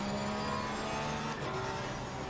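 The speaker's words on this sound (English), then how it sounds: "you can hear my own exhaust reverbing right off of the wall" A race car's exhaust in Assetto Corsa Competizione, reverberating off a trackside wall as a steady, droning engine note at moderate distance without talk.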